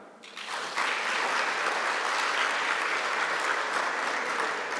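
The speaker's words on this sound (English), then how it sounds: "Can we clap for her?" Sustained audience applause fills a university research conference hall on media and communication, rising quickly to a steady, dense clatter of many hands that holds for several seconds without talk.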